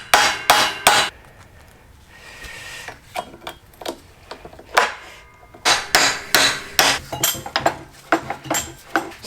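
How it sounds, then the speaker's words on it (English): Sharp metallic taps of a small hammer on a 30-year-old Land Rover ring out in quick clusters, with a brief pause early on, then steady repeated strikes, close and fairly loud. "So the little hammer it is."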